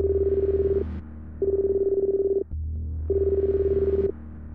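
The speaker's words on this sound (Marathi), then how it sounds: "तितक्यात त्याला पुन्हा फोन कॉल आला." Mobile phone ringing in a horror story, a repeated electronic tone in three bursts with short gaps over a low steady hum, fairly loud and close.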